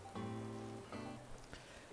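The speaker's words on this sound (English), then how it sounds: "Oh, and it's raining." Soft rain falling in the Animal Crossing New Horizons video game, a steady faint patter with gentle game tones layered over it and no talk.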